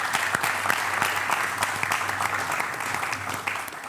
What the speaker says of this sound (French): Acclamons le Seigneur pour M. Ouedraogo.